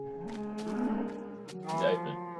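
A cow in the Minecraft video game gives a drawn-out moo, then a second lowing call a moment later, fairly loud and close, with no talk over it.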